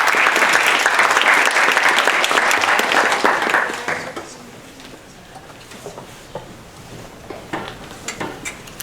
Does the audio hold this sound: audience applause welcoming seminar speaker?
yes